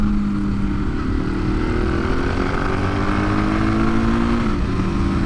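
A Moto Guzzi Griso motorcycle pulls away with a loud, steady engine drone whose pitch climbs and settles, heard up close and continuous without voices.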